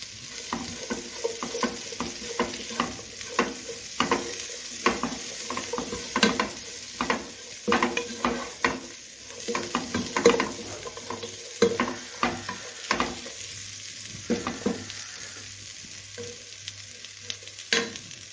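Curry leaves fry and crackle in a pan of jackfruit seed and carrot stir-fry while a spoon scrapes and stirs, giving bursts of sizzling and clattering strokes at close range with no talking.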